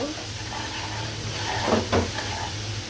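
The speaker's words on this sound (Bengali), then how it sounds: "পেঁয়াজটা একটু ভেজে নিয়ে এখন আমি গুঁড়া মশলাগুলো দিয়ে দিব।" Onion fries with powdered spices in a pan, a steady close sizzle with a couple of louder stirring scrapes.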